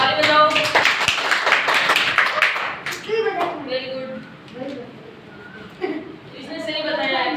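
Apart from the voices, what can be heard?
children clapping hands in class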